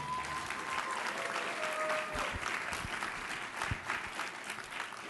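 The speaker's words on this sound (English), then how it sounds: "Can we get one more round of applause" A crowd applauds steadily at a live public event, a soft, distant wash of clapping that continues throughout with a few low thumps underneath.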